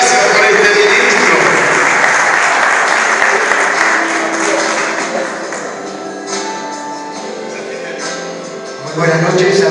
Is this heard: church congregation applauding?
yes